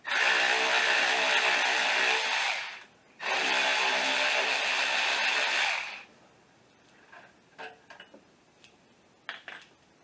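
Power ratchet or impact tool loosening 12 mm alternator bolts on a 2005 Honda Accord 2.4, running in two loud sustained bursts, then quieter clicks and clanks of the tool and bolts.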